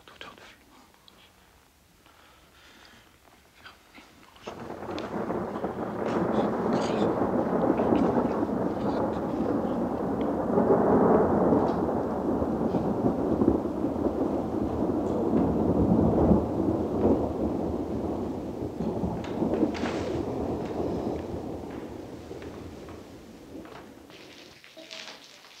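Steady rain hisses for about twenty seconds in a scene from the film Belle de Jour, a dense wash of noise rising and falling slightly, with faint rumbling beneath.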